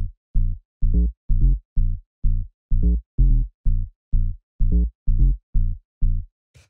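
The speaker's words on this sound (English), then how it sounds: "After that, we have the bass line" A simple tech house bass line plays alone, short punchy low notes in a steady, syncopated repeating pattern with clean gaps between hits.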